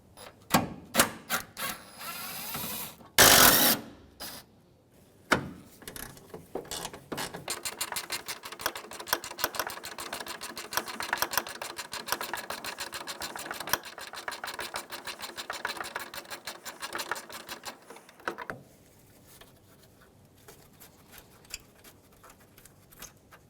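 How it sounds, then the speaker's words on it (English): A cordless impact wrench with a 10mm socket removes bolts during headlight replacement on a 2007-2013 Mitsubishi Outlander: a few sharp bursts, then a long, steady whirring hammer-rattle that runs for about ten seconds before stopping, close and fairly loud. "So I got my 10mm on my impact. Go ahead and take those out."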